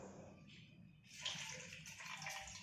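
Water poured into a bowl of maida flour for a Ratha Yatra halwa, heard as a close, steady splashing pour that starts partway through after a quieter opening with faint kitchen sounds.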